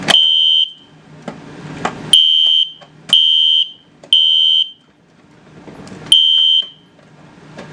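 After a BG-10 fire alarm pull station is pulled, the alarm sounds loudly and close by in a repeating pattern of shrill, piercing tones, with brief pauses and faint rattling between them.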